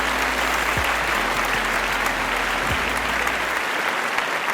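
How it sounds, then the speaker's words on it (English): A crowd at a panel discussion event applauds loudly and densely for several seconds, then the clapping stops abruptly near the end. "I want all of you to clap for yourself"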